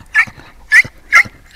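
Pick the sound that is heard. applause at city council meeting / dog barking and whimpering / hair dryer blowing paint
dog barking and whimpering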